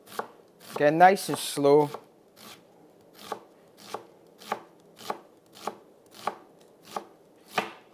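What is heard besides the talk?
knife cutting an onion on a board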